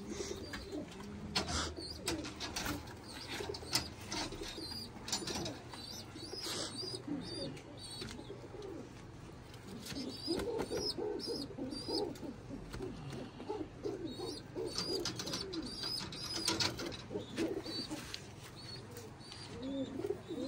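Soft, repeated pigeon cooing murmurs steadily throughout, low and close, with faint rustling and background noise and no talking.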